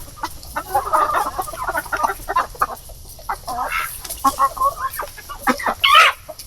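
Heritage chickens on a small farm cluck and squawk in busy overlapping bursts close by, with one louder call near the end over a low background hum.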